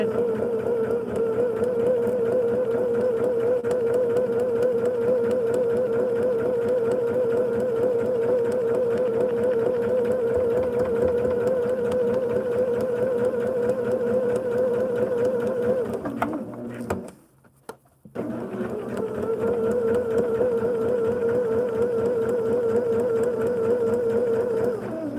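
A sewing machine runs steadily while stitching a quilt block, a continuous close mechanical hum that cuts out briefly near the end and then resumes.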